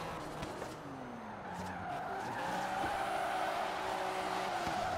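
A car sliding sideways under handbrake in the drifting game Game of Drift, a sustained tire squeal and skid over a steady engine drone, loud and continuous with no talking.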